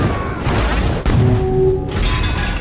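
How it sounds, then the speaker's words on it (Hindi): A dramatized explosion caused by a diesel leak in a submarine engine room, heard as a loud booming crash over a dense, roaring rumble. A sharp impact comes about a second in and is followed by a continued heavy din. "इंजन वाले हिस्से में डीजल लीक की वजह से भयानक धमाका हो गया।"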